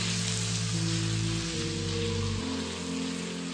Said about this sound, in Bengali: মাছের মাথা দিয়ে আমি মশলাটাকে খুব ভালো করে কষিয়ে নেব